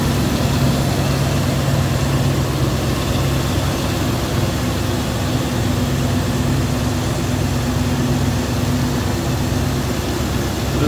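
Constant low rumble of a 1971 Ford Mustang Mach 1's Cleveland V8 idling smoothly, loud and steady throughout with a droning hum and no voices.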